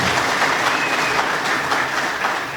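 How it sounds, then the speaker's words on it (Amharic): An audience at a college graduation ceremony claps loudly and continuously, a dense, even roar of many hands throughout. "እዚህ በመምጣቱ እስኪ ደስ ያላችሁ አንድ ጊዜ አጨብጭቡልኝ"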